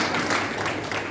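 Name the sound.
audience clapping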